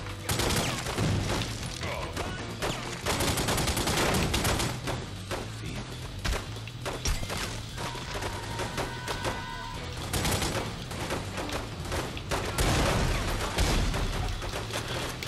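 Dense rapid gunfire and thuds fill a shootout in The Godfather 2 video game, loud and nearly continuous with bursts of shots layered over game sounds.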